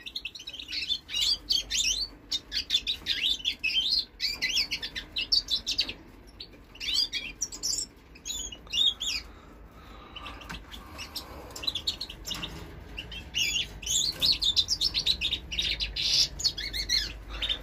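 Finches singing in breeding cages, goldfinch and linnet-type birds, with bright, dense chirping and warbling phrases that come and go in bursts throughout, close and fairly loud over a quiet background.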